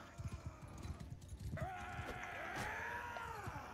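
Horse hooves in Mount and Blade II Bannerlord, a run of clip-clop thuds that gives way to a whinnying neigh near the middle, with a busy battle din behind it.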